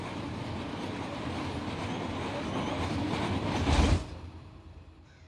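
A train in the Run 8 train simulator game rolls along with a steady, dense rumble that builds to a loud surge near the end, then falls away quickly.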